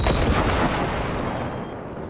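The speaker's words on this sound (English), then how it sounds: "I'm going to blow that turret up" A turret blown up with gunfire in Cyberpunk 2077, a loud close blast with heavy crackling noise that decays into a rumbling tail over two seconds, with no talking.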